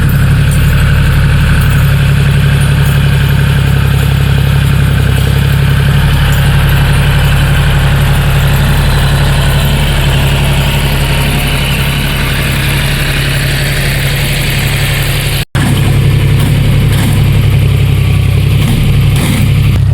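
A tractor engine idles steadily and loudly during wheat and chickpea sowing in a farm field, a continuous low throbbing drone with a brief cut near the end before it carries on.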